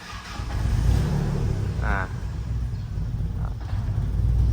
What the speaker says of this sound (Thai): เครื่องติดเร่งได้ปกตินะ แต่ว่าเบาดับนะ